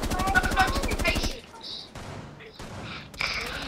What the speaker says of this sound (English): I'm being shot at already.